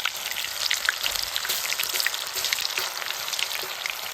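Banana dough dropped into rather hot oil crackles with a dense, steady, close sizzle and scattered pops, like rain hitting a surface, with no speech.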